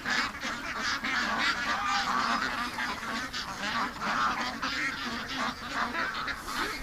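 A flock of ducks and geese raised for charity honks and quacks continuously at close range, many overlapping calls forming a dense, steady clamour with no talk.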